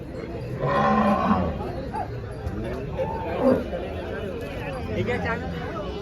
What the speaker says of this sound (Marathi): कितने गाय है भैया